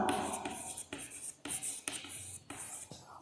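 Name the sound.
writing out a reduction formula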